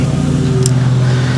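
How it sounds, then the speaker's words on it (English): A lawnmower cutting grass nearby gives a steady, loud engine drone that hums on without a break, with one brief high click. "I know y'all are probably can hear the lawnmower going."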